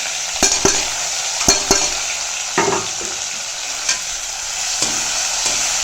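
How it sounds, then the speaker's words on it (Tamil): Sliced bitter gourd sautéing in a pan with browned urad dal, a continuous bright sizzle broken by sharp scrapes and clinks of the spoon stirring at irregular intervals, close and loud with no talk. "இப்போ இந்த பாவக்காயை போட்டு நல்லா வதக்கிக்கலாம்"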